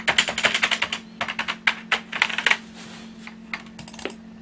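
Keys on an old Macintosh keyboard are pressed in quick bursts of crisp clicks, then sparser single taps with pauses, close and clear over a steady low electrical hum.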